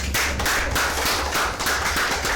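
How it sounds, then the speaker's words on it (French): A French stage show crowd applauds and cheers an act's entrance: a steady, dense wash of clapping that stays loud and unbroken for the whole stretch. "je vous présente Taraboy, sous acclamation"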